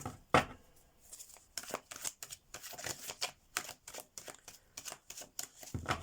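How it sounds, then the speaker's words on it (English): Tarot cards being shuffled by hand, a quiet close-up run of soft riffling and slapping bursts in an irregular rhythm with brief gaps, with no voices. "Let's give these cards a good shuffle."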